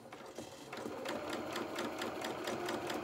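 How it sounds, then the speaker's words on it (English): Sewing machine stitching a small doll hat, a steady rapid close whirring with regular needle clatter, running alone without talk. "So again, we're going to now just pivot. So needle in the work, lift the presser foot,"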